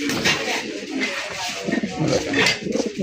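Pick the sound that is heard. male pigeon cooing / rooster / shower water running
male pigeon cooing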